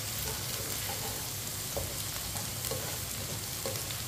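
Okra frying in a pan while being stirred with a spoon, a steady dense sizzle with soft scraping strokes of the spoon and faint clinks recurring every second or so, no talking.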